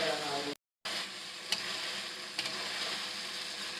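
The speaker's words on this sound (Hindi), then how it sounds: "अब हम फ्लेम हाई करेंगे और अच्छी तरह हम कढ़ाई की भुनाई कर लेंगे।" Chicken karahi with tomatoes frying on high flame in a wok, a steady loud sizzle with a brief cut and a couple of spoon scrapes and clinks as it is stirred.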